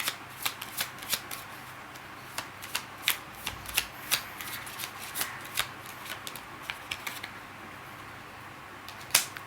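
Tarot cards shuffled by hand, a run of crisp, quick riffling snaps at an irregular pace, close and fairly quiet, with a louder flick near the end and no voice over it.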